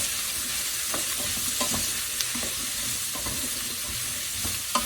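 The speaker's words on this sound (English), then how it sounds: "Put in those carrots. And I'm going to mix that in like that." Carrots being stirred into olive oil in a pan for vegan fennel soup: steady scraping stir with a soft sizzle, close and moderately loud, with a few sharper clicks of the utensil, no talk.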